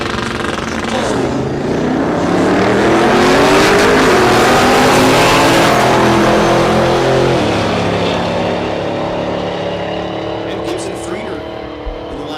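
Aaron Carey's Corvette drag races at Texas Motorplex in Ennis, Texas, a loud, close engine roar climbing in pitch as it accelerates and then easing off, with a voice talking over it.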